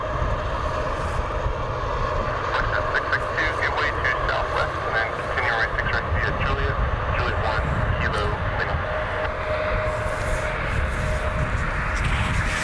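A United Airlines Boeing 757-300 on final approach at Cleveland gives a steady, broad engine roar that holds for the whole stretch, with voice chatter running underneath.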